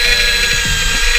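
A power drill with a built-in level bores into a wooden beam, a loud close whine with slight dips in pitch as it bites under light pressure.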